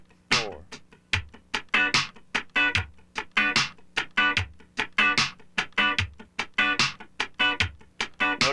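Funk rhythm guitar with an upstroke landing on the fourth sixteenth just before the drum beat, tight choppy strums repeating steadily over a soft kick pulse.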